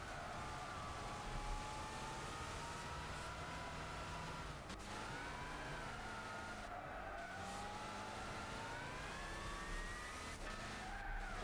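Gran Turismo 6 NASCAR race car braking hard, with a steady engine drone and the high whine of tires skidding and squealing through a corner, loud and continuous with no talking.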